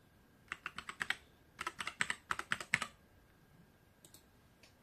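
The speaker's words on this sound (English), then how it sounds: "we can now input a new password for privacy and security purposes." Keys clicking as a new password is typed on a keyboard during setup of a Tenda F3 router, two quick bursts of close, crisp keystrokes, then a pause and a few faint final taps.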